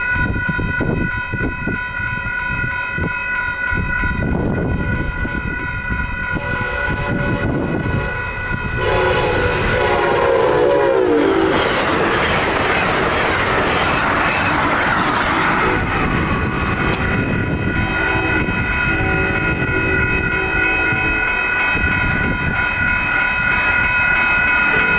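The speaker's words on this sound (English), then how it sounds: "we once again see Amtrak 319 speeding through town." Amtrak 319, a high-speed passenger train, races through a Central Illinois town with a long horn blast and a loud, rushing roar of wheels and cars passing close by, sustained throughout.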